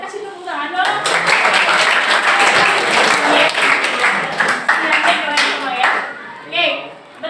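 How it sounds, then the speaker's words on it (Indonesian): A classroom of students claps together in sustained, dense applause lasting several seconds, fading near the end, with voices chattering over it. "kasih tepuk tangan dong."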